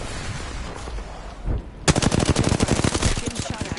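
Video game gunfire with the player under fire: after a murky stretch, a sudden burst of rapid, loud automatic shots rattles on continuously, up close.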